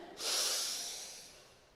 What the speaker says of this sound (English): I want everyone to join me by breathing in